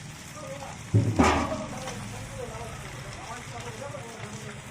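Shrimp drop into a hot pan with a sudden burst of sizzling that settles into a softer crackle while cooking jackfruit with coconut, with a voice speaking over it.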